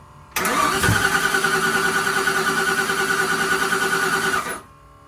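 An old engine cranking on its first start attempt, a steady rapid whirring starter grind lasting about four seconds, close and even, then stopping without catching.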